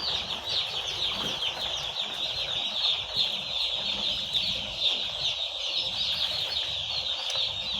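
Day-old broiler chicks on a farm, a dense, continuous chorus of high peeping from many birds at once, steady and fairly close with scattered wing flutters and no talking.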